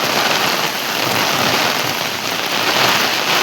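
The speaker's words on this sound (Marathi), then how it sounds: "आणि पाऊस पण खूप मोठं इलो हा" Heavy rain pours down steadily in a dense, continuous hiss that stays loud and even throughout, with no voices.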